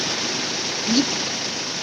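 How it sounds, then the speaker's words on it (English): Water in a rocky creek flows on a 4x4 track near Thompson Dam and Walhalla, a steady broadband rushing wash that stays constant throughout, with a brief faint tone in the middle. "Dan, that's a creek. Or Yeah. a river. It's a waterway"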